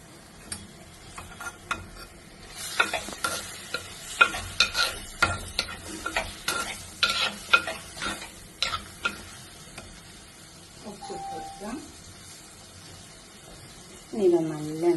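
Shrimp coated in mango powder being stirred in a frying pan, with a run of scraping, clinking strokes through the middle of the clip over a low sizzle, followed by brief speech near the end.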